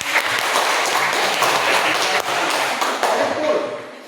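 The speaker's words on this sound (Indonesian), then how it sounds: "Iya, berikan aplaus terhadap." Classroom audience clapping in a steady, dense burst of applause that holds for several seconds, then tapers slightly at the end.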